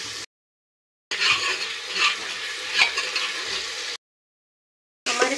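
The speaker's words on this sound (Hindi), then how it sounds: "जो हमारे प्याज लहसुन का पेस्ट है, उसे हम गोल्डन ब्राउन होने तक भूनेंगे।" Onion and garlic paste sizzles and crackles in a hot pan while frying to golden brown, with soft stirring scrapes, steady and close, broken by brief silent gaps.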